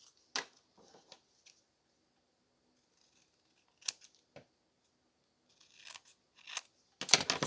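Scissors trim paper ephemera for a garden journal in a series of short, crisp snips, with gaps of quiet between them and a louder burst at the end.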